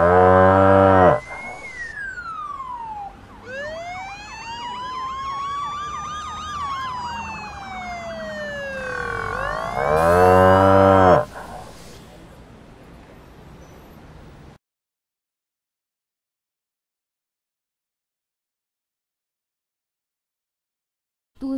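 A cartoon ox gives loud, long, wavering moos, several drawn-out calls with rising and falling pitch and siren-like swoops, ending in a burst and then silence.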